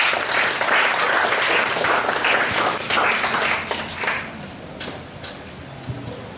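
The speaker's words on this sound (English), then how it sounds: "please give her a round of applause and welcome her to the stage" An audience applauds a poet as she comes to the stage at an art event, a dense, steady wash of clapping that thins and fades toward the end.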